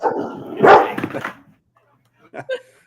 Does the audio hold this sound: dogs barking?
yes